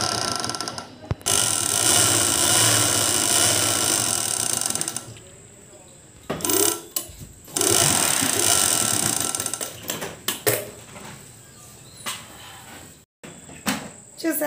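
A sewing machine stitching dhoti cloth runs in long continuous mechanical whirring bursts, close and fairly loud, with pauses and brief clicks between runs.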